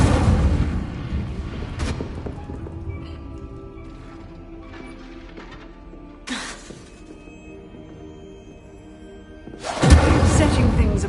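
Incendio fire spells cast in Hogwarts Legacy, three bursts of flaming blast spaced several seconds apart, with the last one loud and sustained over a bed of game ambience and faint voices.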